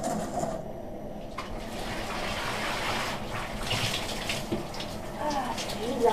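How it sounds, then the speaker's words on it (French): Shower water runs steadily aboard a rocking boat, a continuous close hiss of spray and splashing that lasts throughout, with voices talking over it. "Petite douche mouvementée."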